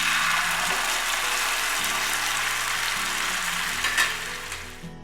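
Coconut-spiced rock fish frying in a pan, a close, steady hiss of sizzling oil with faint crackles and a brief stir near the end, no talk.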